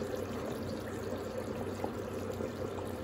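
Hot water from a kettle streams steadily into a cooking pot of potatoes, a soft continuous pouring trickle heard at low level for a few seconds with no talking over it.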